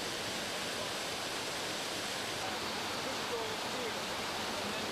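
One of the seven waterfalls on the Millstone River, where a salmon fish ladder runs, roars as a steady, dense wash of falling water with no pauses or voices.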